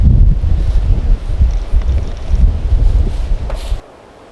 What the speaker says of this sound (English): I'm going to use all my tie outs today because it's very windy